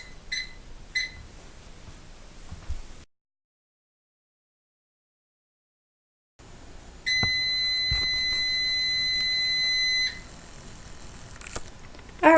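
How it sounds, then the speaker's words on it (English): A kitchen timer goes off while homemade dog treats bake in a preheated oven: a few short chirps, a pause, then a loud, steady electronic beep held for about three seconds with no talking. "Alright, so my timer just went off."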